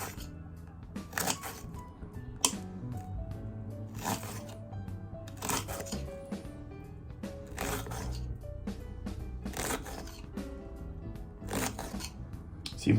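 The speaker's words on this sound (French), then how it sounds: "On coupe quelques rondelles fines de poivron vert." A knife slices thin rings of green bell pepper on a board, giving a run of close, crisp cuts and soft taps in an irregular rhythm, moderately quiet, with no talking.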